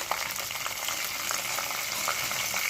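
Potatoes for aloo curry fry in a hot pan, giving a steady close sizzle with scattered sharp crackles and pops throughout, no voices.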